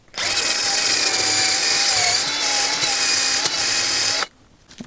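A power tool spins a larger wire brush attachment in a steady, loud high-pitched whir lasting about four seconds, its pitch wavering slightly under load before it cuts off abruptly.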